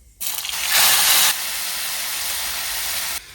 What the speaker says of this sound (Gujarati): હવે આપણે આ ટામેટા નાખી દઈશું.